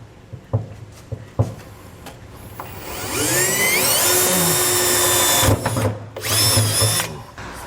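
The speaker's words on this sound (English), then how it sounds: "Now we are going to run a small 1/4 inch drill bit underneath." A power drill fitted with a small 1/4 inch bit whirs up to a high, steady whine as it bores pilot holes through aluminum, after a few short clicks and bumps, then briefly cuts out and spins up again.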